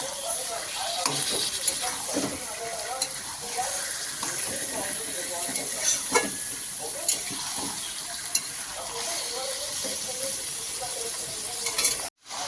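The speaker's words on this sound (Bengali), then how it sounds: "এখানে মাংসগুলোকে একটু ভেজে নেব" Chicken meat sizzling in a pan with a busy hiss, punctuated by scraping and stirring clatter, fairly close, ending abruptly.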